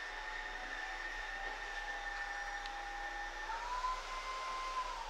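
A Cecotec Freego cordless vacuum cleaner runs steadily, giving a constant whir with a high motor whine that shifts pitch once partway through, heard alone at close range.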